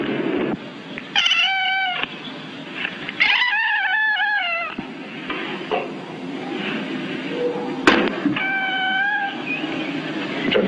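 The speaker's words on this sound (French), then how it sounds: "c'est un chat qui est enfermé dans une chambre" A cat shut in a room meows in several drawn-out, wavering cries, heard close and fairly loud over a steady background hum, with quieter rustling between calls.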